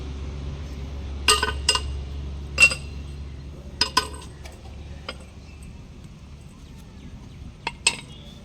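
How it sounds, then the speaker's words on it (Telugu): Sharp metallic clinks and taps come from mechanics replacing brake pads on a truck. The clinks arrive in scattered bursts over a quiet low hum, with a few louder knocks close by. "ఇద్దరు వచ్చి మారుస్తున్నారు బ్రేక్ ప్యాడ్లు"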